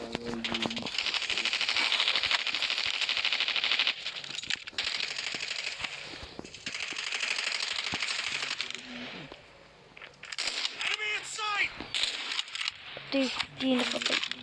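Rapid video game gunfire rattles in dense bursts of automatic shots, pausing briefly before more scattered shots near the end, with people talking over it.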